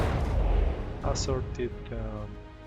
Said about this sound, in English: further artillery exchange from the hit and miss towards the carrier, and constant barrage of assorted